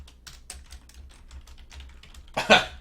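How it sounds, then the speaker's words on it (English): Rapid typing on a computer keyboard, a run of close, crisp key clicks ending in a louder clatter of heavier strokes. "Now I'm gonna type to him."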